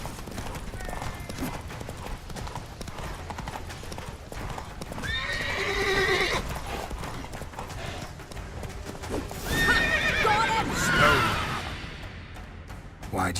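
A horse in The Witcher video game gallops with a continuous drumming of hooves. Loud whinnies and neighs rise over it twice, and faint voices sit in the background.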